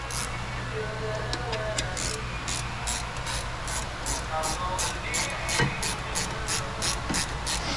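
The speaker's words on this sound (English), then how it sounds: "We just start ratcheting up." A ratchet tightening brake caliper bolts during a brake service, giving a regular series of quick clicking strokes at close range over low background hum.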